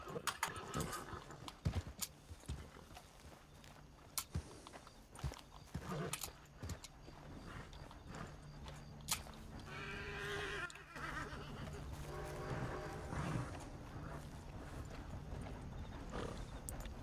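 Horse hooves clip-clop in the video game Red Dead Redemption 2, a steady rhythmic trotting mixed with game ambience and an occasional whinny.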